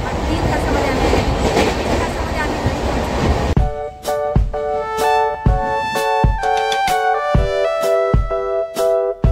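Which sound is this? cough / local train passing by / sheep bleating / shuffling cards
local train passing by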